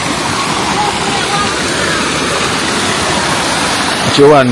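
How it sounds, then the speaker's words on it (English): River water rushes along in a loud, steady, unbroken roar close by, and a voice briefly rises over the flow near the end. "You should only listen to the water only."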